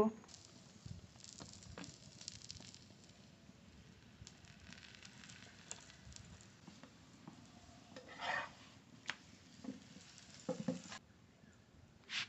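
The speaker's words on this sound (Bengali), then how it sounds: "এপাশ ওপাশ ভালো করে উল্টিয়ে ভেজে নেব" Aloo paratha fries in a pan, turned from side to side, with a soft continuous sizzling hiss, quiet and steady, and occasional louder bursts and faint clatter near the end.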